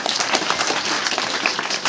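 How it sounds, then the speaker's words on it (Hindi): Applause for a student at a girls' fair (Kishori Mela) in Paldi Siddha, Jodhpur: a short burst of steady crowd clapping, fairly close and loud, with no talk over it. "जोरदार तालियां इनके लिए।"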